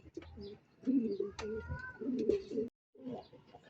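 A racing pigeon coos in soft, repeated throaty phrases up close, with a brief pause before the cooing resumes.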